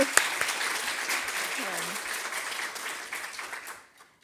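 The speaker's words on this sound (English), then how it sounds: "a big round of applause" A crowd at a university sustainability awards showcase gives warm, sustained applause that rings through the room and slowly fades away near the end.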